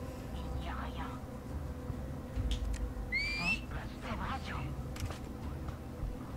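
In the Star Wars Outlaws video game, a short whistle rises in pitch in two quick steps, standing out over steady game ambience and background rumble.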